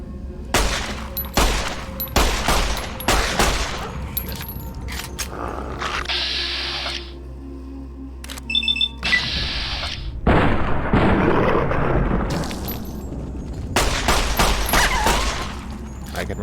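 Gunfire in Fallout: New Vegas, rapid bursts of shots and booming blasts in clusters throughout, loud and close, with quieter gaps between volleys.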